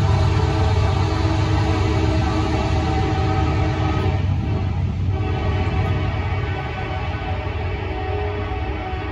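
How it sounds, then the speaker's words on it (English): A train rumbles past close by with continuous heavy rolling noise. The roar stays loud and steady, with a brief dip midway. "excuse the train, I'm sorry we live close by."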